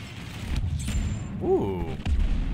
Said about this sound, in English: Grenade ready.